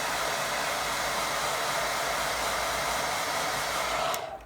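A hair dryer blows steadily on a watercolour painting of a winter lake, a loud continuous whooshing roar that runs unbroken and then cuts off abruptly near the end.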